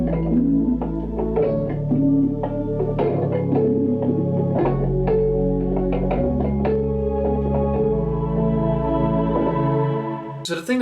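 A music intro layers a deep, growling Reese bass under orchestral strings and a filter-sweep synthesizer, built in Kontakt with Spitfire sounds. It plays loud and continuous, with rhythmic chord hits, no vocals, and a bright burst at the very end.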